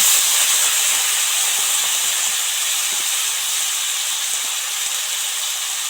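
A loud continuous sizzle hisses steadily and evenly throughout as a little water hits chili and spices frying in hot oil in a pan, for a fish curry with okra.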